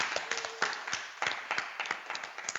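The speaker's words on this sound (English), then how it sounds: "let's give a round of applause for Casey Mackey." A small scattering of hand claps, uneven and sparse, fairly faint and distant, like a modest group applauding.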